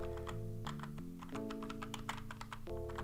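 Number keys on a computer keyboard are tapped in a quick irregular run of sharp clicks while playing Akalabeth: World of Doom, set over a low droning game tone.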